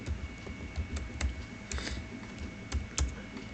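Keys on a computer keyboard clack in an irregular run of quiet, close taps and clicks, with no voices.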